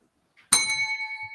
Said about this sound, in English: make sure you trigger that bell